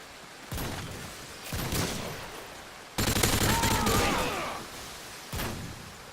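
Bursts of automatic gunfire in Call of Duty Modern Warfare 2, loud volleys arriving in four or five separate blasts with brief gaps between them and no talk over them.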